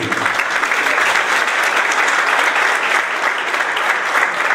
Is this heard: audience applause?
yes